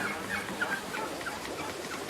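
Turkeys gobbling in repeated bursts during breeding against a steady noisy farmyard background, several birds calling at moderate distance.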